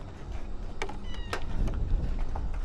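A cat meows at an outdoor fishing spot, with a few short close meows over a steady outdoor background.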